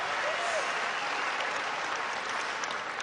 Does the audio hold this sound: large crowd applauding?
yes